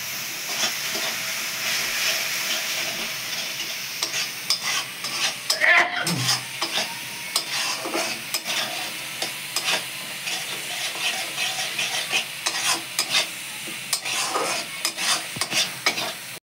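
Spices sizzle and fry in a pan while a utensil stirs and scrapes through them, a steady close hiss punctuated by repeated scraping strokes, with no voices.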